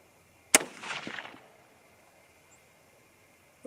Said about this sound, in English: Alright, third shot with the legacy cartridge, or legacy bullet.